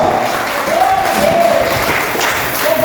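A church congregation applauding during a Portuguese-language worship service, continuous crowd clapping mixed with cheering voices and a sustained vocal tone over the top.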